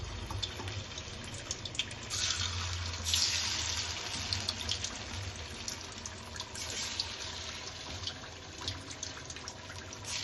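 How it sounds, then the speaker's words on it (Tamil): Steady sizzling and bubbling hiss of hot oil boiling in a pan while cooking mutton biryani, loud and continuous with crackling bursts throughout, no voices. "எண்ணெய் ரொம்ப கொதிக்குது, கொப்பளிக்குது எண்ணெய்"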